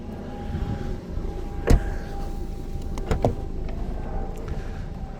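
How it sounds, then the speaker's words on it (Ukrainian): A quiet electric motor whirs steadily as a Volkswagen T-Roc's power tailgate moves, punctuated by a few sharp clunks and knocks. "Електропривід кришки багажника"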